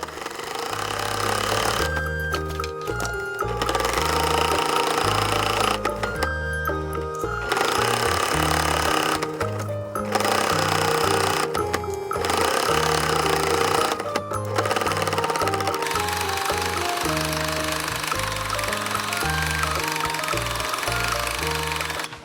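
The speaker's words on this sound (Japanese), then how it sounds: "前端から襟の外回りの端にステッチを入れていこう。" Sewing machine stitching along the front edge and outer collar edge of a child's spring jacket, a loud steady mechanical whir in repeated bursts with brief pauses between runs, close up with no talking.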